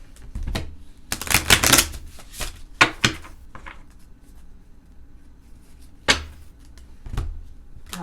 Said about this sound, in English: Oh boy, hold on. These are hard to shuffle.